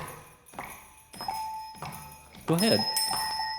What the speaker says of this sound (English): Bells playing now.